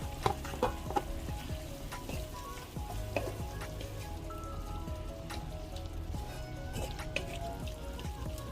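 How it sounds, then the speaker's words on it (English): Shrimp dropped into a pan of simmering, reduced sauce, giving a soft bubbling sizzle with scattered light taps and clinks over a low background tone, fairly quiet and continuous. "I'm going to add the shrimp."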